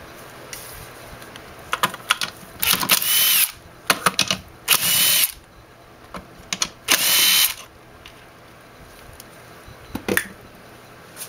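Short bursts of a cordless driver whir up close as screws come out of the back cover of a BMW E36 alternator, separated by clicks and small handling noises.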